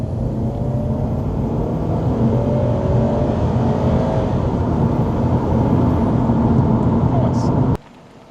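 A 2012 Subaru Impreza WRX STI A-Line with automatic transmission hums and builds steadily as it pulls away and speeds up, a continuous close rumble that cuts off abruptly near the end.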